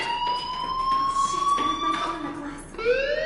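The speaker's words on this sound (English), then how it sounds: "do you hear that fire alarm? That means you should be outside." In the Life is Strange video game, a fire alarm sounds as a sustained, slightly rising electronic tone across the clip, joined near the end by a higher warbling note, loud and steady with no talk.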